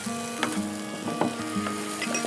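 Onions frying with salt in a pan, a steady sizzle with a few soft stirring scrapes, close and continuous with no voices.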